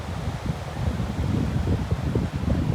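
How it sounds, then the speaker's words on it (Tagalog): Habagat monsoon wind sweeping Station 1 on Boracay's White Beach in the morning: a steady, full-bodied roar with gusty low rumbling against the microphone, continuous and with no voices. "naghabagat yung ihip ng hangin"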